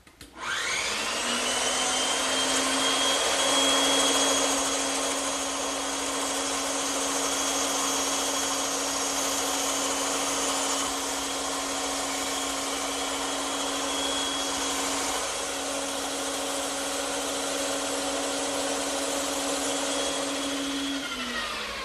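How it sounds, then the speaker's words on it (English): A bandsaw whirs steadily for a long stretch, freehand cutting wood, a constant motorized hum with a faint rasp of blade through wood, close and even. "this is where the bandsaw really comes in handy"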